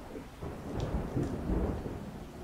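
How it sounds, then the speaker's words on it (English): Thunder recorded by a camera's built-in microphone, a low rolling rumble swelling and fading over a couple of seconds with faint rain in the background. "Or picking up thunder."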